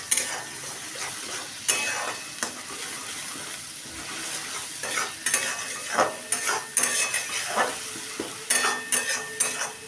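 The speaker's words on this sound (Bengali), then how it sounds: "এবার এই বাটাটাকে আমি পুরো শুকিয়ে নেব।" Long bean (borboti) paste seasoned with turmeric and salt dry-fries in a pan, the spatula scraping and stirring in irregular bursts over a steady close sizzle, with no voices.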